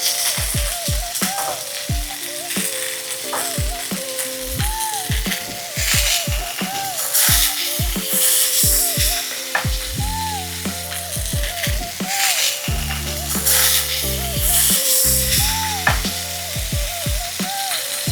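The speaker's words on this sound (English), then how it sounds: "I'm just going to let those fry on each side for 2 minutes" Fish for a Jamaican coconut curry frying in a pan, with a steady sizzle throughout under a melodic music bed and occasional clicks.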